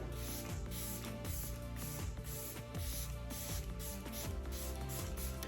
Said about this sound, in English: I like to set my entire face, and I'm using the Professional Super Setter Spray